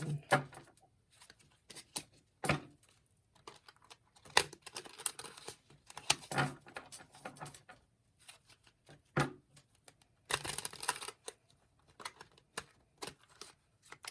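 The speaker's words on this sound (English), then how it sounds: "I guess this is where we're going to stop shuffling here" Tarot cards shuffled by hand up close, irregular bursts of slapping, riffling and sliding with short pauses between, no talking.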